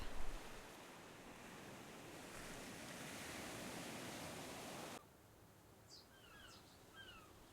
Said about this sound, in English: Coastal and ocean surf.